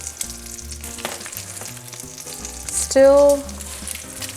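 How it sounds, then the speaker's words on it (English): Bacon cooking in a pan on the stove gives a steady close sizzle under light background sound, with a brief louder tonal squeak near the end and a single spoken word. "our last ingredient is the bacon, so let's go check that out. Still cooking away over here."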